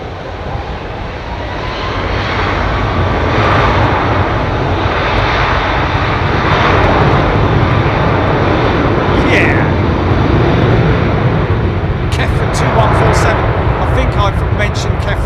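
Rolls-Royce Trent 700 aircraft engines hum loudly at London Heathrow Airport, a continuous roaring drone that swells over the first seconds and then holds steady, with brief faint clicks near the end.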